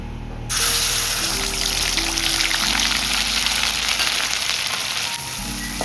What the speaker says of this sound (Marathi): तेल चांगलं गरम झालेलं आहे. तर आपण कांद्याची पेस्ट टाकूया जी आपण तयार केली.